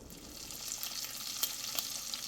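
Bacon frying in a pan gives a continuous crackling sizzle with occasional sharper pops.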